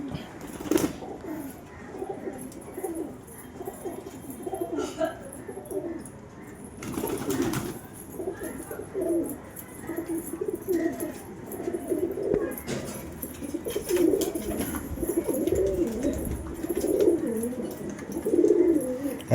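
Pigeons in a pigeon house coo in soft, repeated throaty phrases, close and overlapping, with occasional rustles and wing movements, continuing for the whole stretch.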